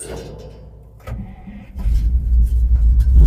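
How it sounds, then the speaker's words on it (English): A Soviet Ural 375D truck engine, left standing for ten months, cranks briefly and catches, settling into a loud, deep, steady idle rumble close by. "Let's see if we will turn the engine around."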